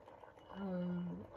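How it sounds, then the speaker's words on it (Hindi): A 3-in-1 facial steam vaporizer filled with water hums as it produces steam, a steady tonal whir swelling for about a second. "देखिए स्टीम बन रही है, मैंने पानी डाला है।"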